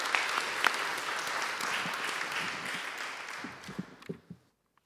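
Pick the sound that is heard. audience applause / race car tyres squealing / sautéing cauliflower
audience applause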